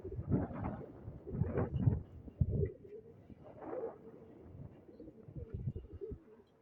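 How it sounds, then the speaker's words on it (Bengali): Racing pigeons kept on a city rooftop coo in soft, low, throaty bursts, several birds overlapping in uneven phrases with short pauses between, fairly close by. "কবুতরের আওয়াজগুলো, কবুতর যেভাবে ডাকে।"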